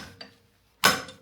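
A wrench works a fitting loose on a Land Rover Discovery 2 cooling fan setup: a faint tick comes first, then a sharp metallic clack that rings briefly before fading into silence.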